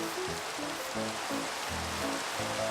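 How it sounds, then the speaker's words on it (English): Steady Minecraft rain hisses as a broad, even wash of noise under soft background music, with no voices heard. "And of course it starts to rain, doesn't it?"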